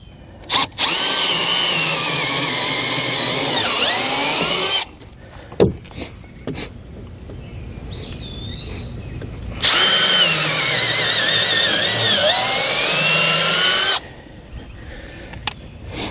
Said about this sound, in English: I'm going to pre-drill a couple of holes for my screws to go in to these 2x4s